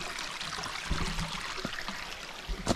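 A small mountain stream in a gentle gully at Parque de Minas flows with a soft, close trickle and light burbling, faint and alone.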